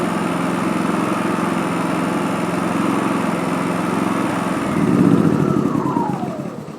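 A Champion 4500 generator fed from a remote fuel tank runs at a steady drone, with the engine note swelling slightly near the end, nearby and without speech.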